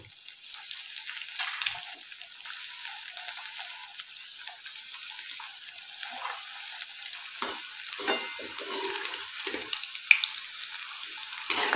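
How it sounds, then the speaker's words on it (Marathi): Maggi pakoda balls deep-fry in hot oil over medium heat, giving a soft, steady bubbling hiss with scattered crackles and pops that grow busier toward the end. "आता आपण तेलामध्ये हे बॉल्स सोडूया।"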